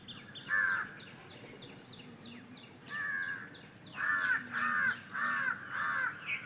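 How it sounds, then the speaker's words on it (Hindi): Crow caws repeatedly in a village setting, one single call followed by a pause, then a burst of several harsh caws in quick succession, fairly close and clear over a quiet rural background. "कौए की आवाज़ सुन रहे हैं ना"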